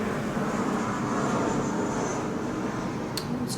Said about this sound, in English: another plane passing by, so I guess we have to stop anyways.